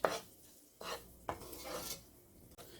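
Semolina being roasted for suji halwa in a pan on medium-low heat, with faint, soft stirring scrapes in a few separate strokes and light clinks, quiet and close.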